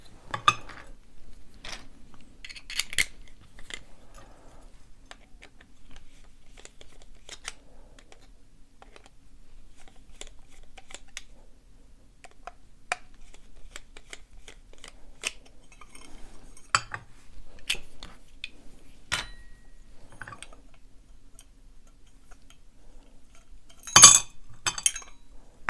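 Small screws are worked out of a vintage French lock with faint metallic clicks, ticks and clinks scattered at close range over a quiet background, with a brief louder clatter near the end.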